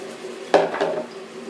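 A single quick clink and scrape of a whisk against a bowl while cake batter ingredients are mixed, brief and close, with a faint tonal hum behind it.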